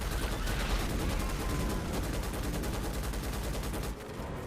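Rapid turret gunfire at bugs in the video game Starship Troopers Extermination, a dense steady rattle of automatic shots sustained for several seconds before easing off, with no talking over it.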